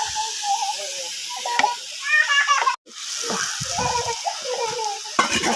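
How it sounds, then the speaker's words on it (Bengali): Vegetables, including jackfruit, sizzle and hiss in a hot pan with turmeric and salt, a steady close frying crackle broken by scraping stirs and a brief silent gap. "একসাথে দুটোকে দিয়ে দেবো, ভেজে নিয়ে নেব।"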